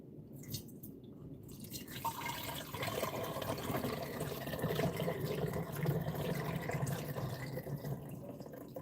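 Jamaican white rum pours into a homemade sorrel drink, making a steady, fairly quiet liquid stream that runs continuously for several seconds and grows slightly fuller toward the end, with no talking.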